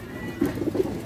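Border pigeons, a batch of ten with anari (pale) eyes kept for sale, give a few soft low coos in quick succession at close range, with steady background hiss and no talking.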